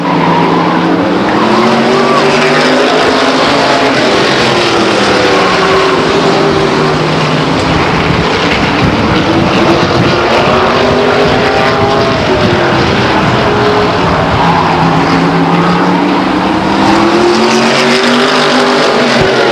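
Race cars lapping Stockton 99 Speedway in a 1999 race, a loud continuous roar of several engines rising and falling as they pass, with tire noise and faint announcing underneath.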